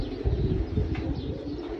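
French meat pigeons cooing on a pigeon farm, a continuous low throaty murmur from many birds close by, steady and fairly loud against a dense rumbling background, with no talking.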